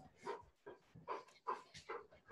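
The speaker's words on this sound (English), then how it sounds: "That's our dog panting in the background." A dog pants in quick, rhythmic bursts of breathy sound, fairly close, with no talking over it.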